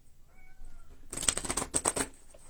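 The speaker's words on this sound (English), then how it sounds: "I can hear my kitty meowing." A cat gives a soft, drawn-out meow, followed by a burst of loud rustling and shuffling noises close by.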